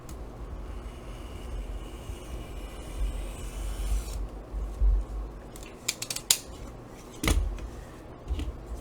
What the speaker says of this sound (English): we are going to cut the foam